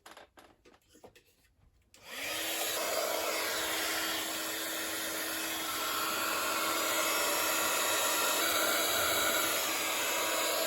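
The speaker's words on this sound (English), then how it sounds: "So I'm just going to get my heat gun and give that a blast." A heat gun blows over a handmade shimmery floral birthday card, starting after a couple of seconds of quiet handling clicks. It then holds a loud, steady close-up whoosh with a constant motor whine that continues to the end.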